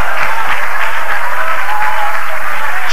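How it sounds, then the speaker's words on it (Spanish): A church congregation breaks into loud, dense applause that fills the room steadily and continuously, rising as a close, sustained wash of clapping without any talk over it. "¿Cuántos le dan un aplauso al Cristo de la gloria?"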